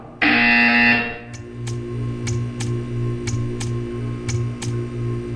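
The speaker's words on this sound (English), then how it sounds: "You will hear a buzzer." A loud electronic buzzer from the video game Portal 2 blares for about a second, followed by a steady low hum with faint regular ticking.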